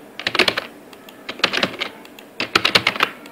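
Quick bursts of typing on a computer keyboard while entering data into a web form, close and crisp key clicks in three short clusters separated by brief pauses.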